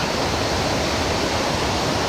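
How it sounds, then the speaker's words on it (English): Mist Falls waterfall in Kings Canyon National Park roars with violent rushing water, a steady broadband wash heard close and loud on a warm morning hike, with no voices over it. "Oh, that's violent water."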